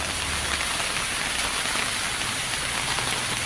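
Steady, dense rain patters on a surface, a constant loud hiss without pauses or voices.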